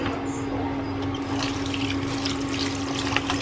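Moringa leaves being washed under running water, a steady close splashing and rushing from a tap with a constant pump-like hum underneath, no talk.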